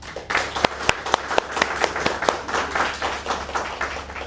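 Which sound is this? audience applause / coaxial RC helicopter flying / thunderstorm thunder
audience applause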